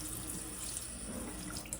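A kitchen or utility sink tap runs steadily to warm water to tepid for watering houseplants in winter, giving a close, continuous splashing rush with no pauses and no voices.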